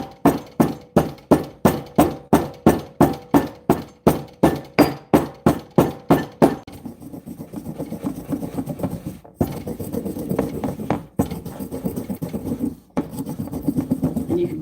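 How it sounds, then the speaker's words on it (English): Red and black peppercorns pounded in a heavy stone mortar, a regular series of about twenty close, sharp thuds followed by a gritty grinding rub with occasional pauses. "I'm pounding the red peppercorns with the black."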